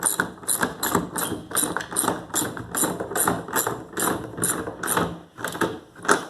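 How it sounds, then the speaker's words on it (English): A ratchet cranks bolts tight on a Lifetime 46-inch intermediate basketball backboard, giving a dozen or so rhythmic bursts of rapid clicking close up, each stroke separated by a brief pause. "Use a ratchet on this side."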